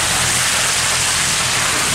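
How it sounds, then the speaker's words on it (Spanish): Heavy rain pours in a dense, steady hiss, loud and close, with no voices, while camping in a Chilean forest. "Está lloviendo súper fuerte."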